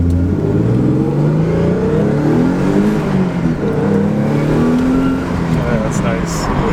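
A Nissan 300ZX engine revs in a garage, its pitch rising and falling in repeated sweeps as the throttle is worked, loud and close, with a voice talking over it.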